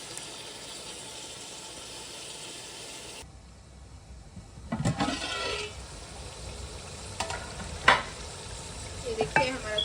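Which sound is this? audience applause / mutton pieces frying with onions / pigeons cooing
mutton pieces frying with onions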